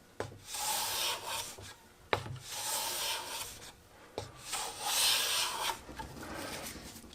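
Bench plane taking strokes along a wooden board, three long rasping passes each opening with a sharp bite and fading, close and fairly quiet.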